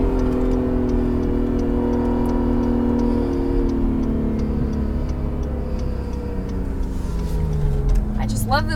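Acura NSX sports car driving laps on a track, its engine droning steadily with shifting pitch and a faint rhythmic ticking, while people talk inside the car.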